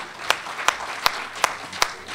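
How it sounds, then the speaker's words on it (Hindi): Applause from the audience at a comic-poetry Kavi Sammelan in Mumbai: a steady hiss of many hands, with five sharp, evenly spaced louder claps standing out above it at a moderate distance. "जोरदार तालियां बजाइए।"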